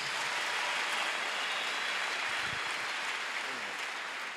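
A church congregation applauds to acclaim Jesus, a dense, steady wash of many hands clapping at once that fills the room, with no voices standing out above it.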